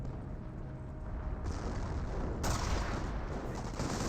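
Gunfire crackles in a Company of Heroes battle as snipers shoot amid dense continuous combat noise, a loud rolling wash of shots and rumble with no distinct single reports standing out.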